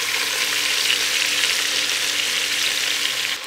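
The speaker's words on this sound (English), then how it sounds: "go ahead and just let your meat sear through" Pork chops seasoned with salt and black pepper sear in a hot pan for a keto pork chile verde, giving a loud, steady, dense sizzle that runs unbroken throughout and eases slightly at the very end.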